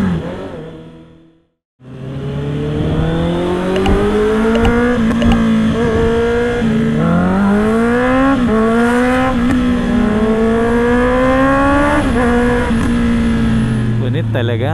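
A Honda CB650R motorcycle on a road gives off a loud, sustained engine roar that climbs in pitch through repeated revs and gear changes after a brief pause near the start, dominating the scene.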